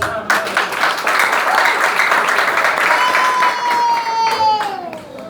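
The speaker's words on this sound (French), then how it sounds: "Nous pas donner applaudissements encore." A church congregation gives a burst of loud, dense clapping that fills the room for several seconds before thinning out, with some voices mixed in.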